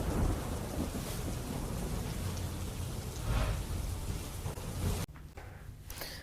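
Heavy monsoon rain pours down in Surat, Gujarat, a dense continuous roar with low rolling thunder beneath, easing slightly near the end, with no voices.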